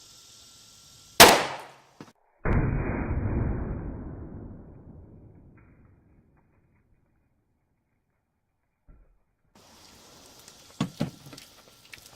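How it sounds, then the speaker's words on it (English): A sharp gunshot as a 115 grain bullet is fired into a tub holding 15 gallons of oobleck, followed by a heavy splattering splash that rains down and fades over a few seconds, then faint rustling later on. "we're going to shoot it from the same range and see if it makes it all the way through"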